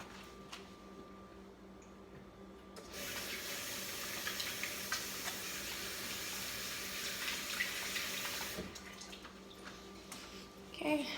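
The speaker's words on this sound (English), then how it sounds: "Let me go wash my hands" Water runs from a tap while hands are washed at a sink, a steady hiss of flowing water starting after a few seconds and lasting several seconds before stopping, with faint background noise around it.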